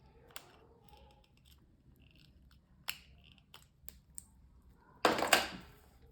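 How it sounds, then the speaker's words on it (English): Scissors pushed inside a nail form for shaping square or ski jump nails, heard as sparse light clicks and snips in a quiet room, ending in a brief louder rustling scrape near the end. "So I'll just take some scissors, put it inside, and just kind of open it back up some."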